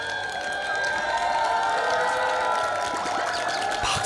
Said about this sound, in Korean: 박수가 절로 나오네요.